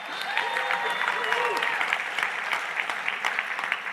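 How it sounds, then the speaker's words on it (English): Applause from an audience at an evening talk event, dense even clapping sustained throughout, with faint voices and a whistle-like tone early on. "Big round of applause for making it up."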